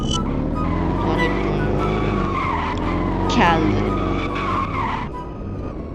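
Tuned race car in a driving video game, engine roaring loudly throughout with a sustained tire skid and squeal, while a person talks over it.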